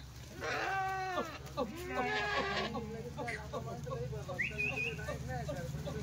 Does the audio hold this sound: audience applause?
no